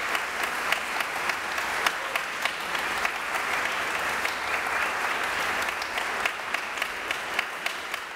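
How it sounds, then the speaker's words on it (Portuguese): An audience applauds after a string quartet's Beethoven performance in a concert hall, with sustained even clapping across the room and a few sharper nearby claps standing out. "Os músicos se levantam para receber os aplausos do público."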